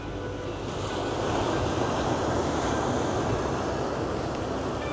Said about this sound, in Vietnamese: Hôm nay là sóng khá là mạnh.